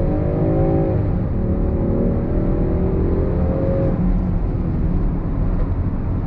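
A 2023 Land Rover Defender 130, a big lifted SUV, accelerates on throttle with a steady, loud engine drone and rising whine heard from inside the cabin, with road roar throughout and no talk.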